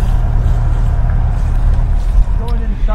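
A 105-foot yacht being towed by a tug: an engine drones steadily with low rumble and water noise, a brief higher whine near the end.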